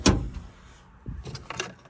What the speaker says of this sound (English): Boat keys.